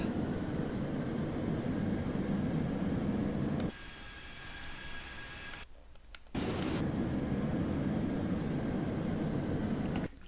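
Simulated airplane engine from Microsoft Flight Simulator X, a steady broadband drone with a tonal whine, briefly dropping in level and cutting out for a moment before resuming at full strength.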